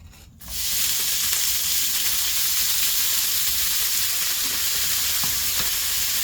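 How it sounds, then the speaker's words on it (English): Shaved steak with onions and peppers sizzling loudly in a hot pan, a steady dense frying hiss that starts abruptly and holds without pause, close and alone with no talk. "we're going to cook up the shaved steak, the onions, and the peppers"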